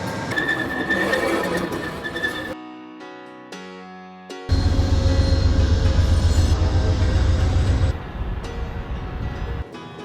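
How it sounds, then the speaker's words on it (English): An Amtrak Texas Eagle train rumbles loudly close by, with steady rolling and rattling noise, then the sound cuts and shifts as it comes to a halt at a station. "Finally, our train has arrived."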